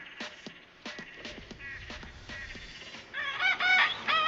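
Rooster and hens clucking in quick repeated bursts, then a rooster crows loudly near the end, fairly close with no talk over it.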